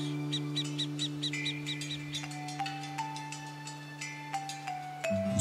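Repeated short, hooting burrowing owl calls in a steady series, with thin chirps and tones over a constant low hum.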